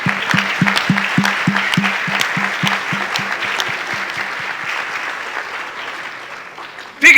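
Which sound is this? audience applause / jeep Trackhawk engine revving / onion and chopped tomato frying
audience applause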